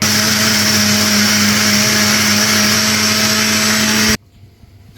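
A mixer grinder grinds masala with yogurt for a cooker biryani, a loud, steady, high-pitched motor whine running continuously before cutting off abruptly near the end.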